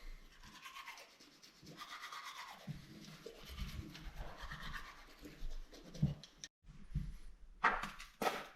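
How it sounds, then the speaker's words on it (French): A brush scrubs with soap and water at close range in short rasping strokes, pausing briefly partway through, on a trek near Namche Bazar in Nepal. "Et on brosse."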